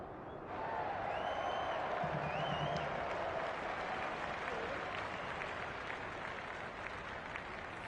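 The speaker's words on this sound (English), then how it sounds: "The crowd already making plenty of noise as the captains come together" A football crowd at an SANFL Inclusive League match, Athelstone vs Salisbury Magpies, applauding steadily as the captains meet, a sustained wash of clapping with a few distant shouts and whistles over the field ambience.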